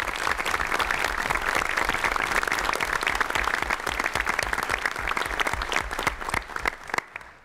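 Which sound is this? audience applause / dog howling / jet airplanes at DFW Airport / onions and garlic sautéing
audience applause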